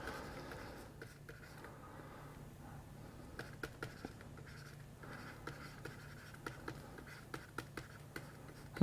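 Pen on paper writing down an answer: soft continuous scratching with small taps and strokes, close and quiet, running throughout.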